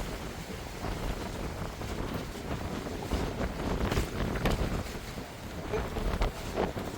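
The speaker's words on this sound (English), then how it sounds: "It's going to be very windy" Strong wind buffets the microphone at an exposed coastal spot near an abandoned WW2 missile complex, a steady roar with louder gusts surging in the middle.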